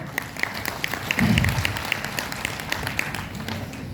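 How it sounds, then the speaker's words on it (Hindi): Audience clapping at a seminar event, a sustained round of applause with scattered sharp claps and a brief murmur of voices in the middle. "एक बार जोरदार तालियां बजाएं"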